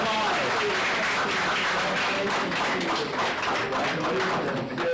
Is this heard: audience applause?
yes